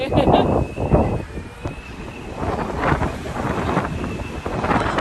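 Gusty wind buffets the microphone in broad rumbling bursts on the deck of a Tallink Silja Line ferry from Stockholm to Helsinki, with a faint steady engine hum and brief voices mixed underneath.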